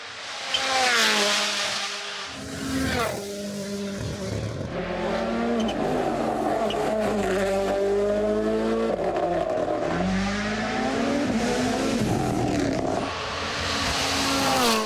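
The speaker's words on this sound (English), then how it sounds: "his first outing on tarmac in the Rally 1 Yaris" A Rally1 Toyota Yaris rally car drives hard on tarmac at the Central European Rally, its engine loud and close, revving and shifting through repeated rising pitch sweeps with brief lifts between, continuous throughout.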